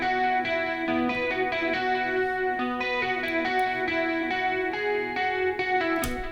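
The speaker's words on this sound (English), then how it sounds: "I just layered these two together to kind of have like a real guitar and then a not so good sampled stock guitar sound from Logic" A real electric guitar layered with a sampled stock guitar from Logic plays a steady strummed chord pattern with chorus and distortion coloring, full and continuous for several seconds with no voices.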